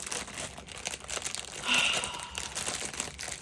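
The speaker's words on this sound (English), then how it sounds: "sorry for the crinkling for you crinkle phobes" Plastic packaging crinkles steadily near the microphone while a Diamond Dotz haul is unboxed, a continuous rustling with a brief louder crunch midway and no clear talking.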